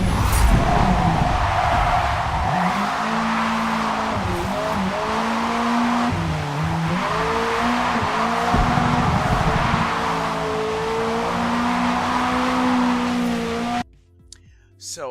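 A race car in Forza Motorsport, driven on a controller, holds a loud engine tone that rises and falls through gear changes and corners, with some tire noise, before stopping abruptly near the end.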